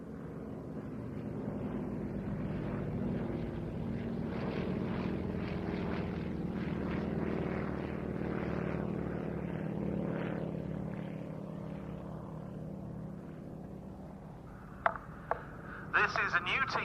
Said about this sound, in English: We've now got the 2 Yak 52s coming in for an opposition run.